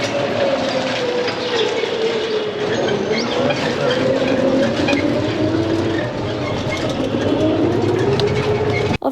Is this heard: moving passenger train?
yes